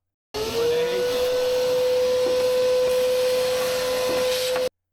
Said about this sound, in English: You might need to vacuum out the housing if there's dust or debris inside.